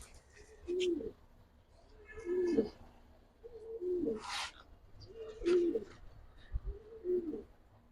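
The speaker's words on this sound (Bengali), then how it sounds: "সবই অ্যালুমিনিয়াম সিলভার কবুতর" Silver pigeons coo softly nearby, giving five evenly spaced low throaty calls, with faint chirps and light background noise between them and no talking.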